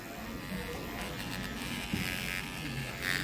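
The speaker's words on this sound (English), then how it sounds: "it's gonna start making this loud rattle" A hair trimmer runs steadily with a loud buzzing rattle, close and continuous throughout, with a slightly harsher burst near the end.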